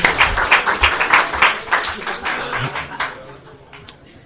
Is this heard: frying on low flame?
no